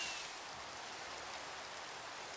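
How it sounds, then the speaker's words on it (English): Rain falling in the Minecraft video game at night: a faint, even hiss of steady rainfall that carries on unchanged, with no voices over it. "It's raining."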